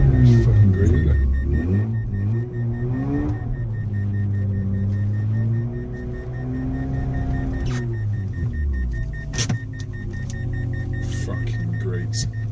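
A Mazda RX8 stuck in snow, its engine droning and rising and falling in pitch as it revs in loud, close, sustained surges, with a few sharp clicks and knocks toward the end.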